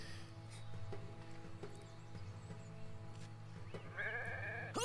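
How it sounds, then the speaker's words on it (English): Sheep bleat in the video game Renowned Explorers: a short, clear, wavering bleat near the end rises over steady low background game music. "Oh, we have more sheep down here."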